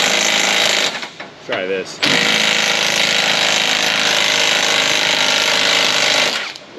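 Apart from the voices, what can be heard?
small impact wrench on Ford Transit frame bolt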